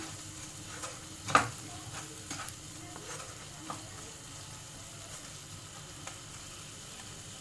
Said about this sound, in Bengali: এবারে দিয়ে দেবো 1 চামচ চিনি, দিয়ে একটু হালকা করে নাড়িয়ে